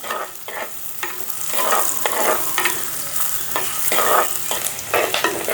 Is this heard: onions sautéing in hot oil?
yes